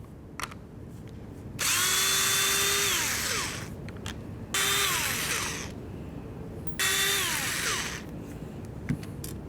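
A power tool spins out three 8mm bolts holding the motor to the window regulator of a 2004-2015 Nissan Titan front door, in three loud whirring bursts with gaps of quieter background between them.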